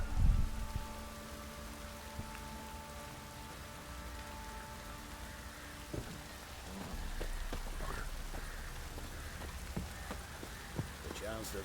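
Heavy pouring rain in the video game The Witcher 3, a steady dense hiss of drops on surfaces throughout, with a few soft clicks and a low rumble underneath.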